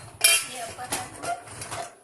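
Clean steel dishes, bowls and cutlery clink and rattle as they are lifted out of a Siemens dishwasher in an Indian kitchen, with a sharp clatter at the start followed by softer handling clinks.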